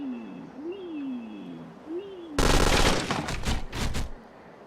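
Gunfire in a Unity-built first-person shooter game: a burst of loud, sharp shots with a few distinct trailing blasts, after quieter warbling tones earlier, and no talk.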